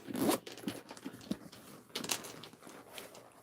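Quick pulls of a zipper on a bag pocket rasp close up, a couple of short bursts separated by soft rustling and handling noises.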